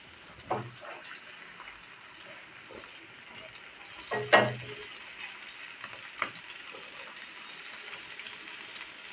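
Bombay duck fish fried crisp in a pan, a soft steady sizzle with a few louder scraping stirs and clatters near the middle, no talk.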